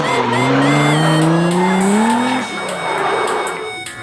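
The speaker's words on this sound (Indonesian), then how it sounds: "mobil balap" Toy race car sound effects, a loud electronic engine whine that rises in pitch with squealing tire sounds, followed by a shorter revving burst and tinny clicks.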